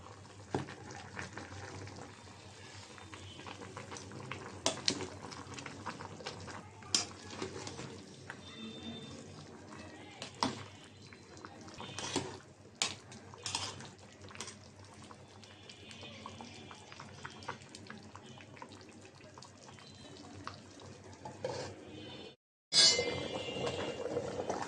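Pumpkin and bottle gourd cooking with small shrimp come to a boil, with a steady bubbling simmer and occasional clinks and scrapes of stirring, one louder knock near the end.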